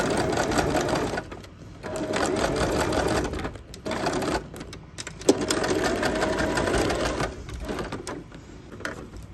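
A sewing machine top-stitches leather and felt in rapid mechanical bursts, running for a few seconds, pausing briefly, then starting again, loud and close with no talking.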